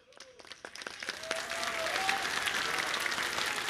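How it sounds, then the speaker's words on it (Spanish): Applause from an audience at a Peruvian presidential ceremony for the Pensión 65 program, building from scattered claps into steady, dense clapping that holds at a moderate distance. "Fuerte las palmas, que se oigan esas palmas."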